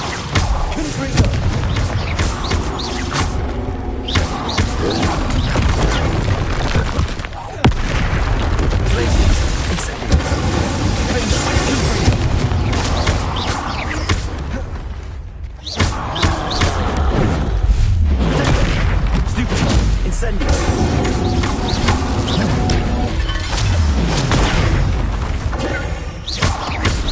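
Repeated Confringo fire spell explosions from the Hogwarts Legacy video game, loud booming blasts and thuds in dense succession under game music and voices, with a brief lull midway.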